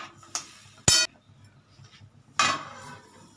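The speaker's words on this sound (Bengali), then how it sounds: "আমি ঢাকনাটা দিয়ে দিচ্ছি" A lid goes onto a pot of boiling potatoes with two sharp metallic clanks about a second and a half apart, a lighter clink before them, close and otherwise quiet with no talking.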